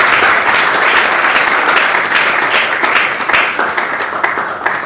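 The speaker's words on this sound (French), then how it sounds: "Est-ce qu'on peut applaudir pour l'artiste," Loud, dense applause from a crowd at an awards ceremony for an artist, sustained and close throughout the whole stretch with no speech.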